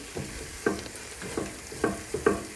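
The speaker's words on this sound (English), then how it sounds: "2 tablespoons of tomato puree. Stir that in." Tomato puree is stirred into softened vegetables frying in a pan for spaghetti bolognese, with a soft sizzle under a series of rhythmic scraping strokes from a utensil, about six distinct scrapes.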